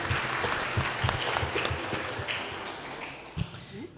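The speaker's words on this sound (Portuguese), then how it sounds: "vamos saudar uns aos outros com a salva de palmas" A congregation at a church novena applauds, with moderately quiet, steady clapping from many people in a reverberant space and a few sharper individual claps standing out.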